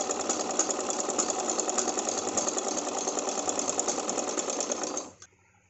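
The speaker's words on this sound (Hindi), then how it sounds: "अब इसको फोल्ड करके मैं इस पर एक कच्ची सिलाई लगाऊंगी।" A sewing machine runs a steady basting stitch on extra fabric for a neck design, humming loud and continuous up close for about five seconds before stopping abruptly.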